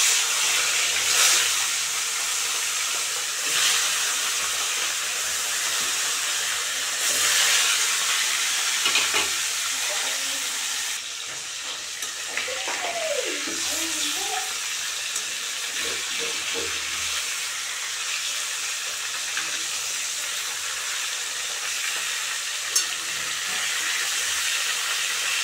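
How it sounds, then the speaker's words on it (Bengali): Pieces of rohu fish fry in hot mustard oil, a dense, continuous sizzle and crackle close by, with occasional stirring scrapes and a brief faint voice partway through. "তেল গরম হয়ে গেছে, এখন আমি মাছগুলি দিয়ে দেব।"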